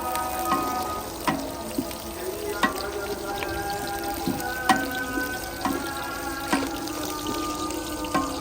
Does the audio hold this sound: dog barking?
no